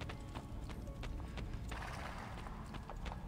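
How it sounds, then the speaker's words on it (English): Horses in Assassin's Creed 2 trot with quick, repeated clip-clop hoofbeats, close and steady throughout, with a faint whinny among the hoof strikes. "Horses!"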